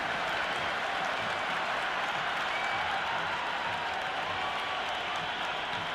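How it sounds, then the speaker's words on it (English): A big cricket crowd at an India versus South Africa T20 match roars and applauds steadily from the stands, a dense, continuous wash of cheering that stays loud throughout without a break. "There's a buzz, a real buzz coming from the stands."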